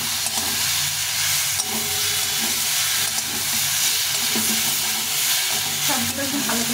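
Eggplant fried in a pan gives a steady, close sizzle and hiss with light stirring scrapes throughout, and no voices are heard.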